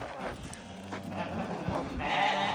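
Sheep and lambs just driven in from pasture on a farm bleat in a brief, moderately close chorus over general yard noise.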